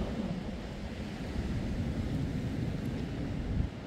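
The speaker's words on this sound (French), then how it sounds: "Il y a un mélange entre des rafales qui arrivent en fait de la colline d'à côté et des déferlements depuis" Storm Herminia's gusting wind mixed with breaking waves below, a continuous low roaring rush that swells slightly toward the end, heard from a distance with no voices.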